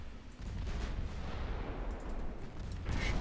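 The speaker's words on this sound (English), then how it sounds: "Torpedo hits." Torpedo hits in the Ultimate Admiral Dreadnoughts naval battle game, deep rumbling booms over a dense, noisy roar that swells again near the end, with no speech.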